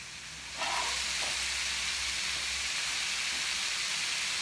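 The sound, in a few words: beef skewers sizzling as they cook slowly on a grill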